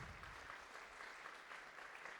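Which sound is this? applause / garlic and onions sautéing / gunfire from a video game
applause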